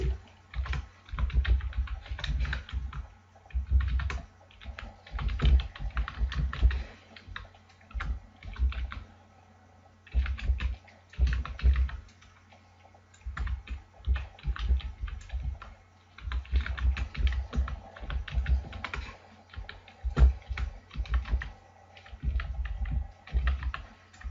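C++ code being typed on a computer keyboard in bursts of rapid key clicks, separated by short pauses, close and clear, with no speech.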